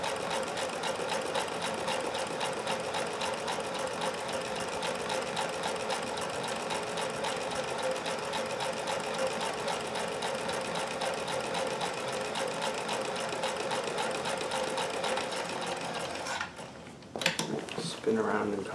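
Singer 26538 embroidery attachment stitching a complex design on a sewing machine, a steady fast mechanical whir running without a break for most of the stretch, then stopping near the end and giving way to a few handling clicks and knocks.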